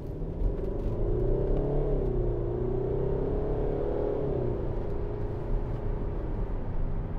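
A Mercedes-Benz SLK250 CDI BlueEFFICIENCY AMG Sport diesel roadster with 7G-Tronic Plus automatic pulls hard, its engine note rising and shifting through gears as a steady, close rumble that holds for several seconds.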